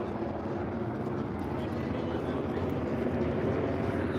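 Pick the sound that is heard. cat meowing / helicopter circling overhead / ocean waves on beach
helicopter circling overhead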